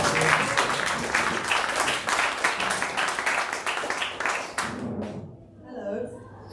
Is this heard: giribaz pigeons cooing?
no